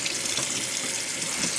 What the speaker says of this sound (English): let's just rinse them a little bit, not too much. You don't want them to hang around in the water.